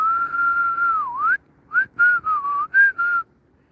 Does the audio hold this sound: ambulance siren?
no